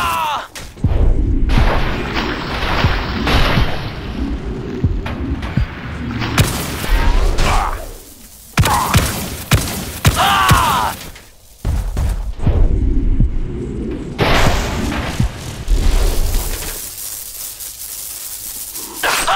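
A video game battle rages with loud, dense gunfire and booming explosions, almost continuous but broken by a few brief lulls.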